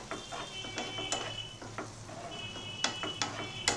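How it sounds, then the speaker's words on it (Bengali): Stirring and mixing green chili pickle with chili powder and salt in a bowl, giving soft scraping and clinking spoon strokes with a faint wet sizzle-like texture, close and quiet. "এই সব কটাকে ভালো করে মিক্স করে নেব।"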